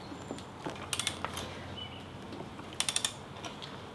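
A ratcheting wrench tightens a nut on a Ninja 250 wheel. It gives two quick clusters of metallic clicks, each about three or four clicks, close up against a quiet room.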